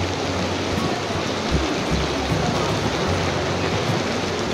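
Heavy rain pours steadily at a vineyard in Nashik, a dense continuous hiss with low rumbling underneath, loud and close throughout with no voices.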